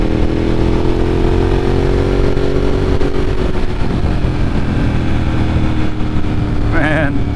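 Ducati 1098S motorcycle ridden along a twisty road, its engine droning steadily and loud with rising and falling pitch through the bends, plus wind rush throughout.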